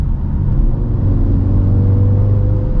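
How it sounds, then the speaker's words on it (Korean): Steady low exhaust drone from a Mini Countryman JCW in green mode, with a deep, even rumble and a sustained hum, loud and close, no voices. "뒤에 있는 배기 소리가 들리네요"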